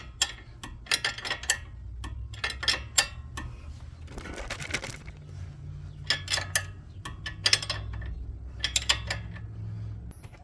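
Someone tightens rear brake bolts on a Chrysler Pacifica with a 17mm wrench, producing clusters of sharp metallic ratcheting clicks in short bursts, close and clear, with no talk.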